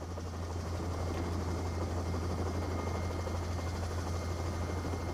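A rescue helicopter's engine and rotors run at the pre-takeoff stage, a steady, loud droning whine with a deep low hum, continuous and unchanging throughout, with no talk.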